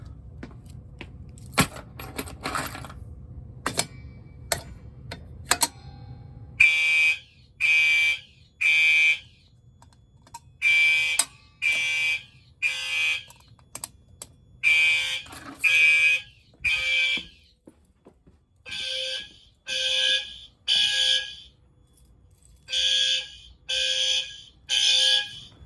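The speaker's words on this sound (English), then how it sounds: "I like the harmony between the low frequency sounder and this sounder." Fire alarm sounders going off after a BG6 pull station is pulled, a low-frequency sounder and a higher horn pulsing together in steady on-off bursts, loud and close with no talk.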